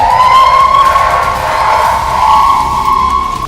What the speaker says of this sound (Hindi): सायरन की साए साए आवाज खार्किव में दहशत और खौफ पैदा कर रही है।